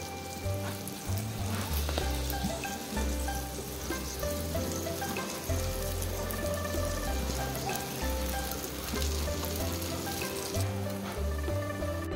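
Lotus root boxes pan-frying under a lid over medium heat, a steady close sizzle and crackle of oil running the whole time with no talking.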